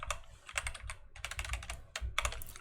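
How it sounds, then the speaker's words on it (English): Fast typing on a computer keyboard, with quick bursts of close, crisp key clicks broken by short pauses. "Actually, I'm just gonna type it here."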